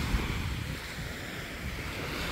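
Sea waves wash steadily onto a beach in Spain at sunset, a soft continuous surf roar with some wind noise and no voices.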